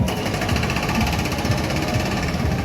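A digger working nearby gives off a loud, steady mechanical rattle and rhythmic knocking throbs that fill the whole moment without pause.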